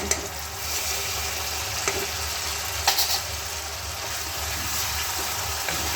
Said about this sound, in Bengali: খুব হালকা করে নাড়িয়ে নেব।